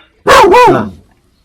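A dog gives a loud, close bark, a single double-pulsed woof lasting under a second, alone against a quiet background.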